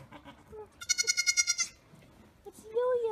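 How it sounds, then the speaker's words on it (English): A baby goat named Yo-Yo bleats in a rapid run of about seven wavering, high-pitched cries at close range, with a brief second bleat at the end and a voice speaking softly around it. "He's making baby goat noises."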